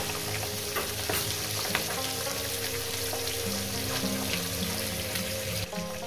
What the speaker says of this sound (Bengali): আমার মাছের মাথাটা ভাজা হয়ে গেছে, আমি মাছের মাথাটা তুলে দিচ্ছি